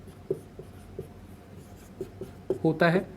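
A marker or chalk writing on a board in short scratchy strokes, with small pauses between letters, close and fairly quiet, and a voice speaking near the end.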